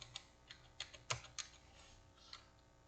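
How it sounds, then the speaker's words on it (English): Quiet, irregular typing on a computer keyboard, a few sharp close key clicks with short pauses between them and no voices. "keyboard"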